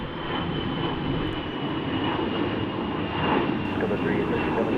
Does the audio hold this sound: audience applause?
no